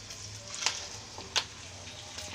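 Chana dal and urad dal tipped into hot oil for a tempering, giving a soft, low sizzle broken by two or three sharp crackling pops.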